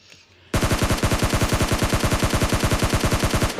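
Automatic gunfire in the game PUBG: a sudden, loud, rapid burst of evenly spaced shots that keeps going for about three seconds after a quiet start.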